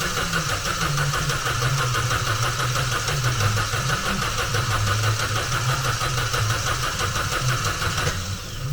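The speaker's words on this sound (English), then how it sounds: "I've disconnected the coil packs, and we're just going to wind it over" A Vauxhall Astra engine being cranked over on the starter with its coil packs disconnected, a steady, rapid whirring churn that runs without firing for about eight seconds before easing off.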